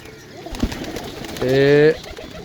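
A pigeon coos once, a soft throaty call rising out of steady background noise after a brief knock.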